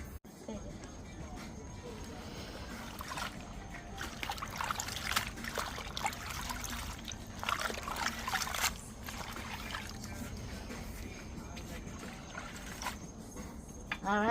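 Water trickles and runs continuously while people wash up outdoors beside a fireside cooking spot, with people talking over the steady splashing.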